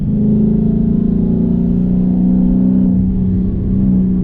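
A Dodge Charger 392 V8 engine revving under acceleration, a loud steady low growl heard close up from inside the car, holding a fairly even pitch with a slight dip near the end.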